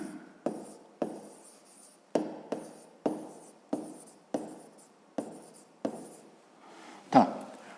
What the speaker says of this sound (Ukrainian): Пишемо тоді розв'язання.